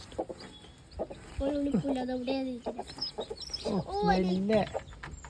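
A domestic mother hen, just out after hatching chicks, clucks close by in a run of drawn-out, wavering calls and shorter clucks, with faint background noise.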